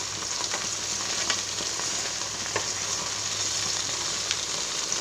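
Chicken pieces fry in a heavy uruli pan, giving a steady, loud sizzle with occasional faint scrapes and clicks as the pieces are turned over, with no talking.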